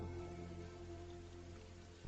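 Rain falls steadily in a continuous soft patter on a surface, fairly quiet, with a constant low hum beneath and no voices.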